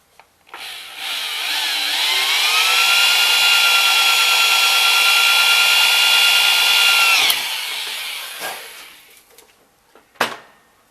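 A power drill whines at a steady pitch for several seconds while drilling a hole in metal on a Cub Cadet hydrostatic transmission, then spins down, followed by a couple of sharp knocks.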